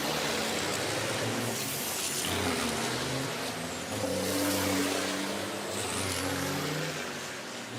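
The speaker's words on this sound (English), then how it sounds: "the field leaves the grid for the very first time this season to start their formation lap" Racing trucks at the Hungaroring leave the grid on a formation lap, their engines a loud, continuous roar that swells and falls as the field rolls away.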